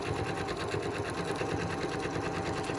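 A sewing machine runs a steady zigzag stitch across a denim patch on a pair of jeans, its rapid, even chatter continuous and close throughout.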